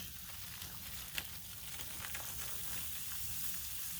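Smoked sausages sizzle and fry on a Blackstone griddle, a steady close crackle with a few sharper pops and no talking.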